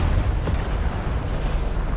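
Gunfire and explosions in War Thunder, heard while driving the SARC Mk.VI, come through as a heavy, continuous low rumble of booms and blasts that stays loud throughout, with no talk.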